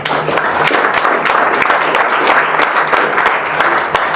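Audience applause fills the room at a conference talk on health and performance in banks, loud and steady clapping from many people for a few seconds with a voice partly underneath.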